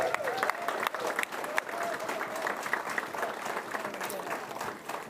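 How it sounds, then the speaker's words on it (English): An audience claps for veterans at a ceremony, a steady dense applause from a mid-sized crowd lasting several seconds, with some voices mixed in. "May I have a round of applause for these folks as well?"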